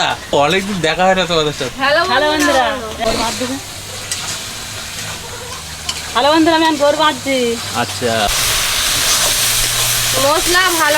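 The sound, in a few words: spices frying and sizzling in a pan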